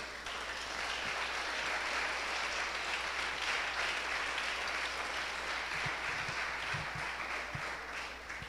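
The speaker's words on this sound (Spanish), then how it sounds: "¿Cuánto le dan un fuerte aplauso a Dios?" A church congregation applauds during a sermon, a steady, fairly distant wash of clapping with a low hum beneath and a few soft thumps near the end.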